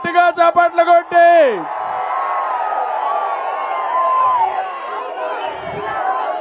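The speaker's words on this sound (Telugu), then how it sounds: "స్వాగతం చెప్పండి, గట్టిగా చప్పట్లు కొట్టి." A large crowd at an outdoor political rally in Gurazala roars and cheers loudly and continuously after a brief shouted voice at the start.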